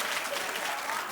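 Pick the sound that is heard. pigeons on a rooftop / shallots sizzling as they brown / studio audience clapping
studio audience clapping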